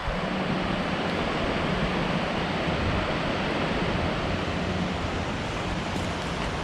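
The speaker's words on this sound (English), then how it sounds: "Check out the river." A river runs near the Portland Basin marina and aqueduct, its rushing water a dense, steady roar that holds constant throughout with no talking.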